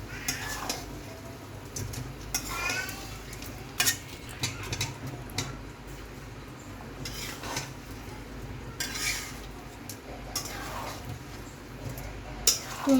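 Olives tipped into hot oil in a pan and stirred while making pickle: repeated scraping and clattering of a spoon against the metal pan with light sizzling underneath, close by, with occasional background noise.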